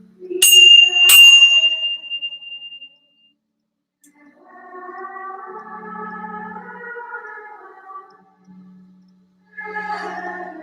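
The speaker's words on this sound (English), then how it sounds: "And now we ring our little bells for unity and for peace." Two quick strikes on small hand bells during evening prayers ring out bright and close, leaving a clear lingering tone before a quiet pause and then soft sustained singing.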